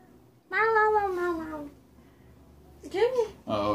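Two drawn-out meows from a Pokémon Sun and Moon video game, the first long and falling, the second shorter and rising, with a brief bit of talk following.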